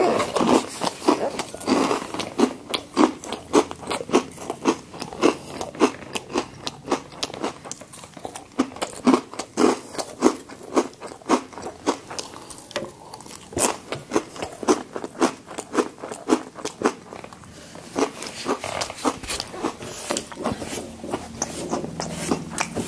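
Crispy cinnamon breakfast cereal being chewed right at the mouth, dense rapid crunching that keeps going at an even rhythm for over twenty seconds, loud and close with no voices.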